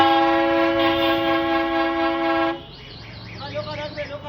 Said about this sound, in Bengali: গিয়ার চেঞ্জ, এখানে এক্সপ্রেস আসবে,